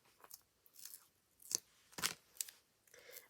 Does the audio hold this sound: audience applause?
no